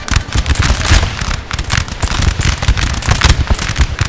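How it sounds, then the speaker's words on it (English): Massed musket volleys in a Napoleon: Total War multiplayer battle: dense, continuous crackling of many shots overlapping into a loud, rolling fusillade with no pause, no voices. "A few stray bullets hitting the musketeers in the backfield."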